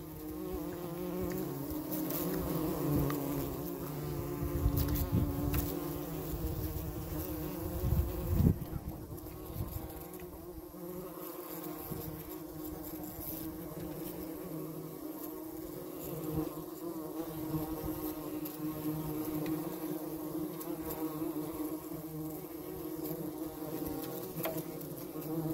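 Bumblebees buzz steadily around a pollen patty made of egg, oil and flower pollen, a close, continuous droning hum with slight swells as insects move near and away.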